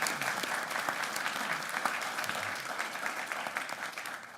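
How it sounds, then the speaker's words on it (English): Steady audience applause fills a Texas Tech University System Board of Regents meeting as Dr. Huey is welcomed, a dense, even wash of clapping from a seated crowd lasting several seconds without speech. "Let's give Dr. Huey a round of applause."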